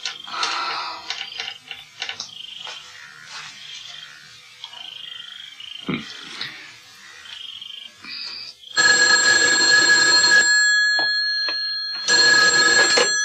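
A telephone ringing in a quiet room, its electronic trill repeating in two long loud bursts after a stretch of scattered chirpy tones.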